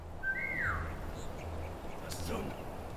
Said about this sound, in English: give me a whistle there